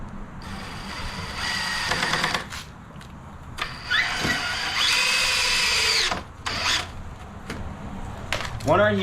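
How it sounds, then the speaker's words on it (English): A power drill whirs in several bursts, driving screws into wood with rising and falling motor pitch, close and loud, with a few short pauses between runs. "you're gonna take your drill and you're gonna put two screws in."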